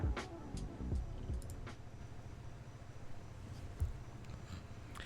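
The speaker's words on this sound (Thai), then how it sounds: "พัดลมค่อนข้างแรงนะครับ" A steady, low whooshing drone of a strong fan running close to the microphone, with a few scattered light clicks and taps over it. No speech.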